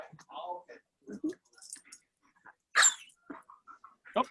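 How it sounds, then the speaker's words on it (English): A puppy barks and whimpers in short bursts around voices chatting in a room, with one sharper, louder yelp standing out near the middle. "Oh, there's a puppy."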